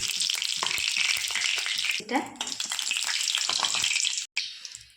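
Whole cumin seeds sizzle in hot oil alongside two bay leaves for a home-style river bele fish dish, a loud, dense crackle that runs steadily, dips briefly near the middle and cuts out for a moment near the end.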